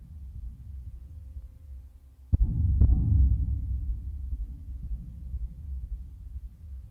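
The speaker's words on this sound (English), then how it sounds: "I'm pretty sure that's a heartbeat" A deep, low rumbling heartbeat-like throb in a space game, with two sharp thumps in the middle, then a continuing muffled pulse, close and heavy with no talking.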